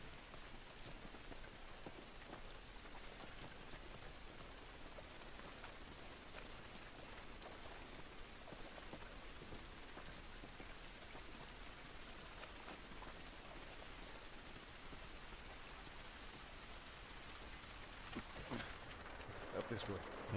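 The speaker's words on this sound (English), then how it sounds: "It's raining, can't do us any good." Steady rain falls in The Last of Us video game, a dense, even hiss of drops on surfaces that continues throughout, fairly faint in the mix.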